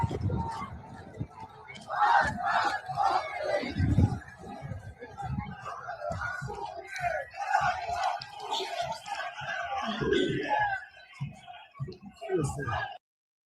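A protest crowd in Iran chants and shouts in loud, surging waves. Voices overlap in a dense roar with sharp cries rising above it and a brief drop to quiet at the end.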